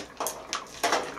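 A hot hardened steel tap plunges into quenching oil, giving three quick, close hissing sizzle bursts that die away between pulses.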